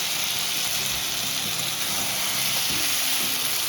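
Chitol fish curry frying and being stirred in a pan, a dense constant sizzle with occasional soft scrapes of the spatula underneath.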